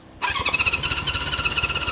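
A Honda CB350 Four motorcycle with one cylinder lacking spark is being cranked, giving a steady churning, whirring starter-motor rattle with a high metallic squeal that starts abruptly and continues without pause.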